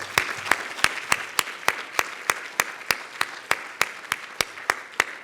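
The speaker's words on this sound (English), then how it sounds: "let's give them all one round of applause" Steady, evenly spaced claps ring out at an alumni awards luncheon, honoring the award winners, each one sharp and close over a soft wash of general applause from the audience.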